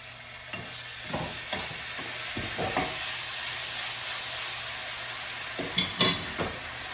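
Miso glaze hits a hot pan of tofu with a steady bright sizzle, while a utensil stirs and scrapes in a few quick clinks and knocks near the start and end.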